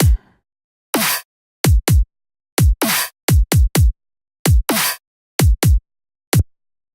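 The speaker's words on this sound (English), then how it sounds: "I just created a quick kick snare pattern like this" Punchy electronic kick drums and noisy, crisp snare hits play a sparse, syncopated pattern, loud and dry with silence between hits.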